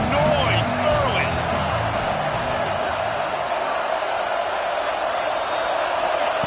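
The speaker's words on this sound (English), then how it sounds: "This crowd bringing the energy and noise early." Loud, constant roar of a stadium crowd at a college football game between Miami and Arkansas, a dense wash of cheering that fills the whole stretch without a break.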